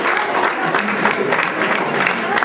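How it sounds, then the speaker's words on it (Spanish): An audience in a university lecture hall applauds, brisk clapping from many hands close by, with a few voices mingled in. "Un aplauso."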